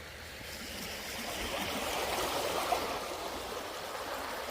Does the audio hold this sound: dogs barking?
no